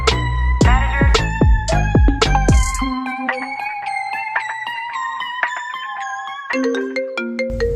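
A phone ringtone plays a bright, repeating melodic tune, loud and close, with strong bass hits at the start before settling into a steady chiming pattern.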